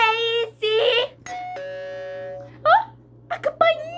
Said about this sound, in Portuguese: Oh, a campainha!